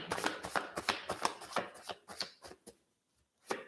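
Tarot cards being shuffled in quick, crisp riffling bursts, close by, trailing off into a pause before one last flick.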